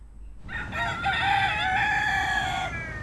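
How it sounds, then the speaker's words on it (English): A rooster crows loudly and close by in one long, wavering call, with faint clucking from free-roaming chickens in a suburban town. "you have a couple dozen chickens wandering around here in the middle of town"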